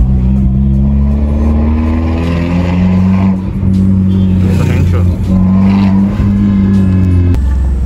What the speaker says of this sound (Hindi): सो गाइस आई होप कि मैंने आपको सुना दी होगी एग्जॉस्ट की आवाज,